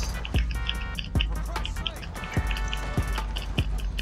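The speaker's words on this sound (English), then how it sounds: "I'm running in the water." A character in Red Dead Online runs through shallow water, producing rhythmic splashing footfalls about every half second, close and fairly loud over game ambience.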